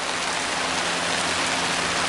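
Steady outdoor rain at a Dale Hollow carp-fishing trip, a dense, loud, even hiss of falling drops that fills the whole stretch without a break and with no voices.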